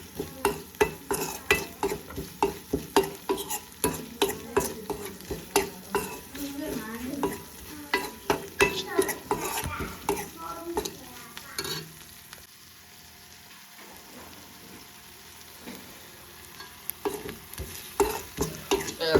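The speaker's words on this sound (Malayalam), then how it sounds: "പൊടിയൊന്ന് എണ്ണയിലൊന്ന് വറുത്തെടുക്കണം" Spice powder fried in oil for a dry shark fish curry, stirred with a spoon in a pan: rhythmic scraping strokes over a continuous close sizzle, the stirring pausing briefly before resuming.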